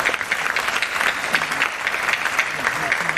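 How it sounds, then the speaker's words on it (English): Crowd applause at a South Asian earthquake relief concert, a dense, lively patter of many hands, with some voices and cheers mixed into the clapping. "Please give a round of applause to the boards for their support."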